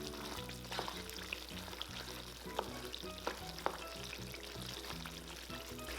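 Pork belly cooking in soybean paste for a noodle dish sizzles and fries steadily as it is stirred, with soft scraping and occasional sharper clinks over a continuous low bubbling hiss.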